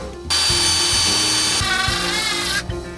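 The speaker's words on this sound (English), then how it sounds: "I think we'll just drill a hole here." A power drill bores a hole for a closet rod bracket during a home repair, a loud, steady whine running nearly three seconds with a slight pitch shift midway, close up with no talk.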